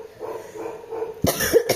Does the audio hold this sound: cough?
yes